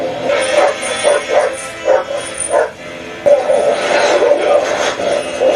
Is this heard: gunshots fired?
no